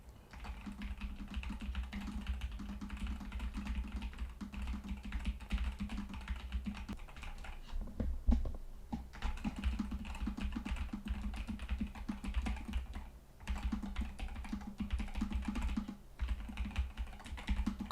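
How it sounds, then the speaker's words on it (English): Rapid typing on a Newfie Air V2 75 keyboard, a dense run of close, crisp key clacks with brief pauses and no talking. "I'm going to be doing a keyboard check. I'm using my brand new Newfie Air V2 75."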